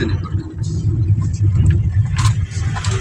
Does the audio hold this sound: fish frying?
no